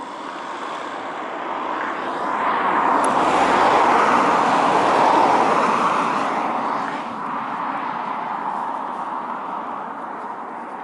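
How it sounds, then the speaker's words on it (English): Traffic on a main road near Llyn Ogwen, one vehicle approaching with a swelling roar and then fading, over a constant wash of road noise. "I've got a noisy walk along the main road back to the car"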